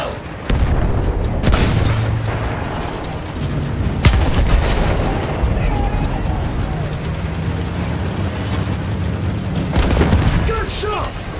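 Gunfire in the video game Battlefield: heavy shots and booming blasts crack out repeatedly across the whole stretch, loud and close, with a steady rumble of battle underneath.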